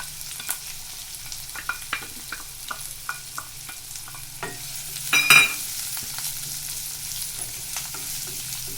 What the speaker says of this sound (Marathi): त्यानंतर आपण हा चिरून घेतलेला कांदा त्याच्यात घालतोय.